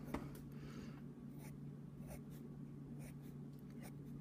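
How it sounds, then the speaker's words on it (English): Quick pencil strokes on paper while drawing eyelashes for a portrait, a series of short, soft scratchy strokes in an irregular rhythm, close and quiet, over a low steady hum. "And you'll notice I'm using these kind of quick pencil movements."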